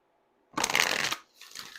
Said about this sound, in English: Pisces, let's finish with an oracle card. This is the Moonology oracle cards.